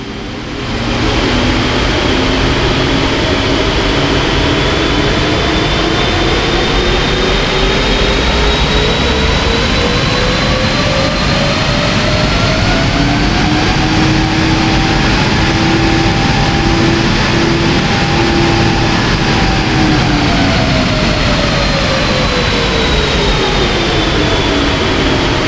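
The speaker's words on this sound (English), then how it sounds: "In the exterior view in front of the engine, it currently sounds like this." Sustained jet engine roar of a PMDG 777 heard from an exterior viewpoint in front of the engine in a flight simulator, a steady loud whine with slowly shifting tones, continuous throughout with no talk.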